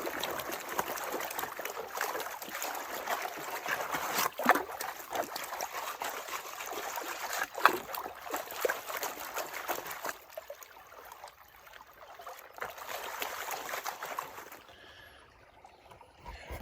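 Water trickling and sloshing in a gold pan during panning of possible tailings, a continuous close wash with a couple of sharp knocks, tapering quieter toward the end.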